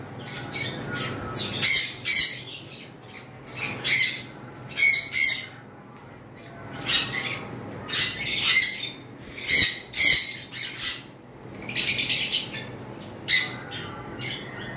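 English budgerigars and cockatiels squawk and chirp in repeated sharp bursts, close by, over a faint background hum.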